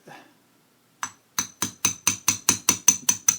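A small hammer knocks out pins on a Ruger LC9 pistol in a quick, even series of about ten sharp metal knocks after a single opening tap, ringing slightly with each blow.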